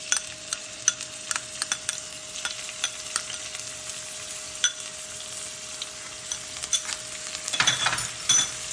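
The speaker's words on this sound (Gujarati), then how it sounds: "હવે આને આપણે બરાબર રીતે સાતળવાનું છે તેલની અંદર." Ginger, chili and garlic paste sautés in hot oil over medium heat for an Indian potato puff filling, a steady close sizzle dotted with small pops and crackles, with a stirring scrape near the end.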